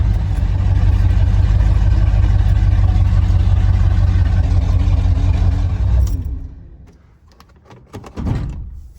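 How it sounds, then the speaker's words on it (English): A car engine with a Holley 4 barrel carburetor running at high idle, a loud steady low rumble for about six seconds that cuts off abruptly, followed by quieter scattered knocks and a brief rise. "There's the high idle right there."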